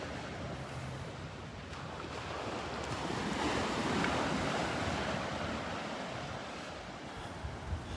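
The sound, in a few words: ocean waves on the beach at Delnor-Wiggins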